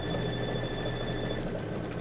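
A Baby Lock embroidery machine starts a weave quilting stitch, giving a steady close mechanical whir with a fast rhythmic needle chatter and a faint high whine, with no talking.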